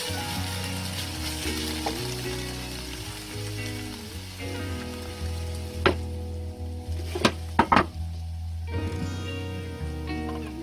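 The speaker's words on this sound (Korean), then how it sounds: "소고기가 충분히 다 익으면 볶아놓은 청양고추 일부를 넣습니다" Cheongyang chili peppers go into beef frying in a pan, giving a steady sizzle with a few scraping clatters from stirring partway through and a low background hum throughout.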